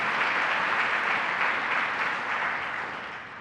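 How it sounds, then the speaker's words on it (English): Sustained audience applause from a crowd at a child care announcement event in Central New York, a dense steady roar of many hands that holds loud, then tapers slightly toward the end. "So let's give a round of applause to our bishop"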